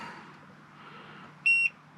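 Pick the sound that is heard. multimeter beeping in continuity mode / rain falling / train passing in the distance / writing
multimeter beeping in continuity mode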